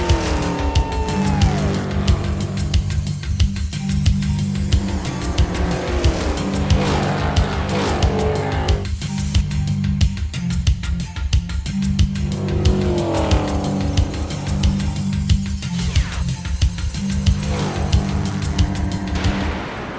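NASCAR race cars roar loudly and continuously on a track, engines droning with repeated tire squeals and skids, heard close and sustained without talk, with a steady musical beat underneath.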